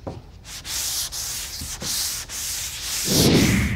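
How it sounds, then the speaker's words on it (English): A sanding block worked over a Ford F100 truck body panel gives a steady, close rasping rub in repeated strokes, with a brief pause near the start and a heavier, rougher stroke at the end. "if you use your sanding board front to back or in a linear sanding pattern"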